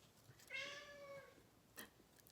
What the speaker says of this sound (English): That is my cat, Nick